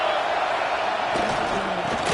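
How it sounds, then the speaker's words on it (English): A football stadium crowd roars in a continuous loud wash of cheering and noise, swelling slightly toward the end, with no clear single voices standing out. "Here comes 2nd down, and this crowd is turning it up a notch."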